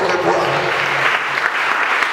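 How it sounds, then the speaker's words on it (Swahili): A church congregation at St John University claps steadily and densely during a sermon, a continuous close roar of many hands with no pauses. "Ongeza tu makofi yako kwa Bwana."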